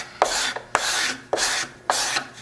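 An old needle blade scraping across a wooden stepladder-chair surface, four firm strokes in a steady rhythm, each a close, dry rasping rub with a sharp bite at the start; no voices.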